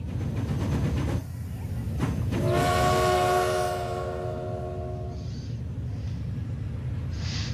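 A video game train rolls along with a rumbling engine, then a sustained horn blast rings out for a couple of seconds before fading back to steady engine drone with faint high whistles.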